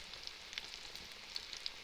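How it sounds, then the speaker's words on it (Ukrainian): Quiet, steady sizzling of a meat patty frying in a pan, with faint crackles and pops scattered through a soft hiss. "якраз смажиться з тієї сторони, де м'ясо"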